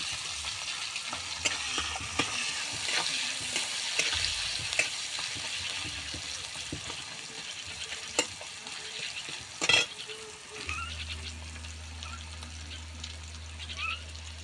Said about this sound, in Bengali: পেঁয়াজটা একটু নেড়ে চেড়ে নেবো।